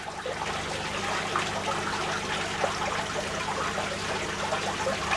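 Steady trickling and splashing of a small garden waterfall running continuously, close by, with a low constant hum underneath and no voices.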